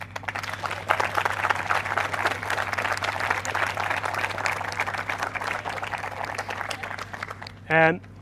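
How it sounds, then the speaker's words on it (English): Crowd applause and clapping after an under-21 ladies Gaelic football game in Tipperary, a steady patter of many hands sustained for several seconds, with a brief voice near the end. "both sets of teams deserve a huge round of applause"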